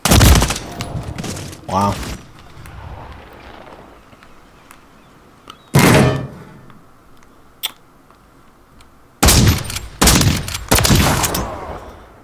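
Gunfire from a two-shot burst weapon in Call of Duty: Modern Warfare 3 multiplayer, sharp loud bursts in several clusters separated by quieter gaps, with a brief exclamation from a player.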